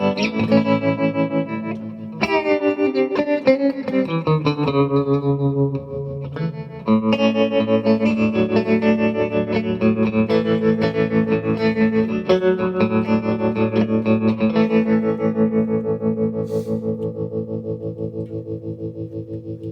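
An electric guitar plays chords and notes through a Sub Zero 20R valve amp with tremolo and chorus-like modulation. The tone is warm and slightly distorted, pulsing steadily, and the last chord rings out alone.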